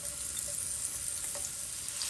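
Cloves and freshly chopped onion sizzle steadily in hot oil, a dense, even hiss close up that holds without a break for a couple of seconds.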